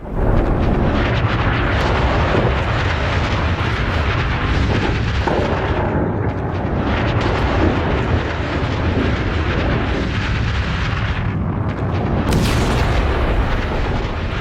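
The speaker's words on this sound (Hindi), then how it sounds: "GBU-57 ये जो आप धमाका देख रहे हैं" A loud, sustained roaring rumble of GBU-57 bomb explosions, dense and continuous with heavy low booms throughout, no voices.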